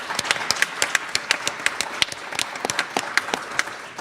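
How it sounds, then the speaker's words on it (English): Conference audience gives a round of applause, sparse and uneven, with individual claps standing out clearly as separate sharp hits rather than a dense roar, fairly close and moderate in level. "I want to give another round of applause to the folks who organized this conference."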